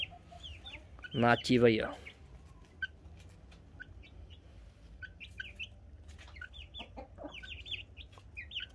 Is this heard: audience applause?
no